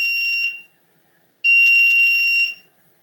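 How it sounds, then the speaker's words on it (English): A piezo buzzer sounds twice, a shrill high-pitched tone lasting about half a second, then a longer one-second burst after a pause, loud and close. "I think you can hear the buzzer buzzing there"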